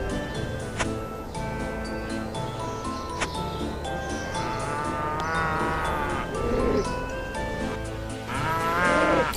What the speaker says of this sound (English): Die, cow. You don't belong in this world.